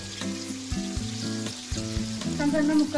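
Thin slices of garlic fry with curry leaves in hot oil for garlic rice, making a loud, close crackle and sizzle over a steady tonal hum. No one speaks.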